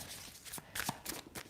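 Tarot cards being shuffled by hand, a papery riffling and sliding in several quick bursts, close up and fairly soft, with no talking.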